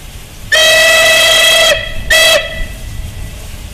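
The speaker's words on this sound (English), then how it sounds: "Another reason that a driver will blow the whistle is to indicate to everyone in the yard that the locomotive is" Steam locomotive whistle sounding in a railway yard, a loud sustained harmonic blast of over a second, a brief pause, then a shorter second toot, over a low background hiss.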